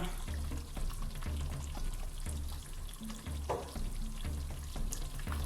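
Saka saka, a cassava leaf sauce with fish powder, shrimp powder and red palm oil, cooking in a pot: a steady bubbling sizzle broken by rhythmic low stirring thumps, close up, with no talking.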